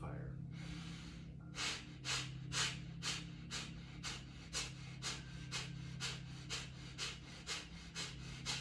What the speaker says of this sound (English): begin the breath of fire